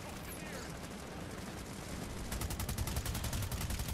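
Rapid automatic gunfire in the PS4 video game Planetside 2, a Biolab battle: a dense, evenly spaced stream of loud shots starting midway and continuing to the end, over background battle noise.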